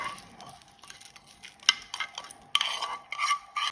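Hot tempering with red chilli poured into chutney, giving bursts of crackling sizzle and clinks, with louder spitting surges toward the end, close up.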